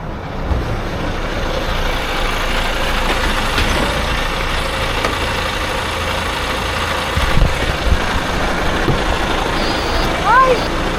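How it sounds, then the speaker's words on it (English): A lorry engine idles with a steady low rumble heard from close by, and a few brief louder bumps and a faint squeak come through near the end. "I am finally in a lorry."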